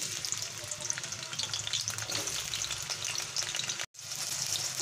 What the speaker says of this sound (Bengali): আমি এমন করে ভাজতে হবে যে আলুটা সেদ্ধ হয়ে যাবে